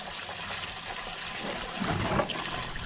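Water pours steadily into a container at a creek, a continuous soft splashing and trickling that swells slightly toward the end.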